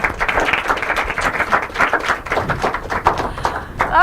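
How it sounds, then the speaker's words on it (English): Warm applause from an audience at a school inter-collegiate quiz and debate competition, brisk scattered clapping filling a hall for a few seconds, fairly close and uneven in intensity. "Another warm round of applause."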